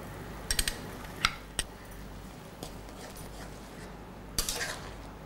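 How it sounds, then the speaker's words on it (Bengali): Mustard paste stirred into a green mango ombol, heard as a few scattered spoon clinks and taps against a bowl over a quiet background hiss, faint and close, with no voices. "আমি এখন সেই সর্ষে বাটাটা মেশাবো"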